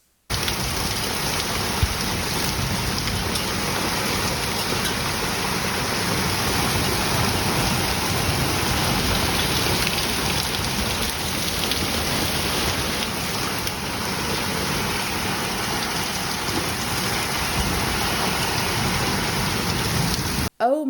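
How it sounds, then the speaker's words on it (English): A heavy summer rainstorm in the UK pours down in a dense, loud, unbroken hiss of rain hammering on surfaces, with thunder rumbling low underneath throughout. "we had some epic storms and rain, and I'll just show you a clip of that here."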